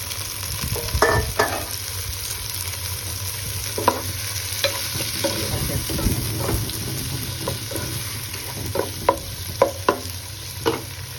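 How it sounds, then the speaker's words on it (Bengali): Chopped drumstick and pumpkin pieces fry in a pan with a continuous sizzle, punctuated by scraping and stirring knocks from a spatula; no speech. "এবার আমি সেই ডাটা কোটা ডাটা কুমড়ো এগুলো দিয়ে দিচ্ছি"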